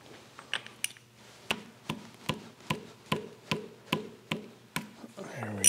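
A socket wrench ratchets while loosening the head bolts on a Vulcan Iron Works steam locomotive part, giving about a dozen evenly spaced, close, crisp metallic clicks in a steady rhythm.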